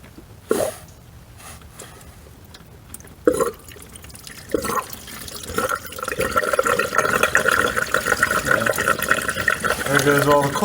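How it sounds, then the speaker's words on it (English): Engine coolant pours out of the thermostat housing of a VW Golf mk4 TDI (ALH engine), a few splashes and drips giving way to a steady, close trickling stream. "You can see the coolant's flowing out of there."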